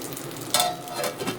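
Soft sizzling of brinjal cooking in a pan, with a brief louder hiss partway through and no talking.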